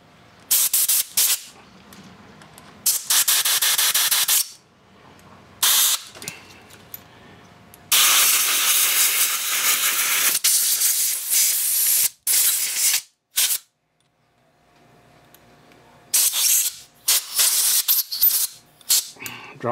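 Loud bursts of compressed air hissing through a 1980 Evinrude 35 HP outboard motor in repeated blasts, some short and some sustained for several seconds, with brief quiet gaps between them.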